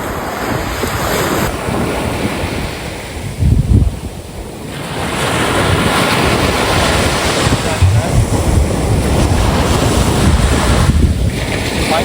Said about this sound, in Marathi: आता लाटा बघा मोठ्या येऊ राहिले.